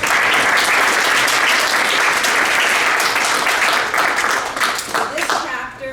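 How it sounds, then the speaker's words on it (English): Audience applause rings out at a guild induction ceremony, sustained clapping from a crowd that holds loud and steady for several seconds before thinning out toward the end. "So give them a round of applause."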